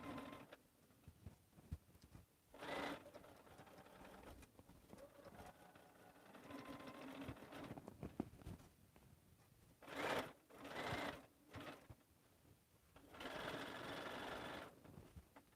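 A sewing machine basts long stitches through quilt batting on a lined stocking, running in several bursts of rapid mechanical whirring separated by pauses, close and fairly quiet.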